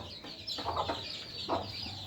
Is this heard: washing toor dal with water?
no